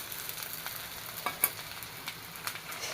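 Ivy gourd thoran frying in a pan and being stirred, a soft steady sizzle broken by light scraping and tapping from the spoon, close and quiet.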